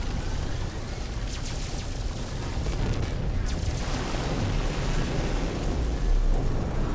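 Continuous heavy rumbling blasts and booming gunfire from anti-freighter cannons in the space game No Man's Sky, a dense, steady barrage with no clear gaps.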